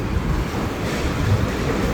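Steady wind buffeting a microphone at an outdoor fishing spot, with a broad rushing roar and low rumble that holds continuous and loud for the whole stretch, no voices over it.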